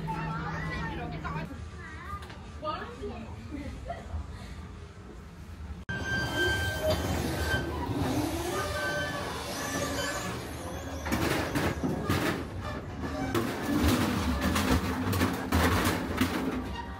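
A traditional passenger train in rural Yunnan, China, gives a continuous rumbling, clattering roar nearby, with pigeons or doves cooing and people talking throughout.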